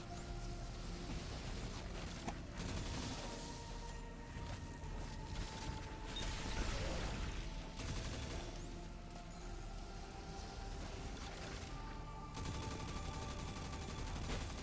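Vex lasers and gunfire in the video game Destiny rattle almost nonstop: dense, loud volleys of shots and blasts that keep overlapping throughout, with only brief dips between bursts.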